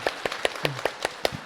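Church congregation at a Sunday service claps in a steady, regular beat, a handful of crisp claps close together at an even pace, without any voices.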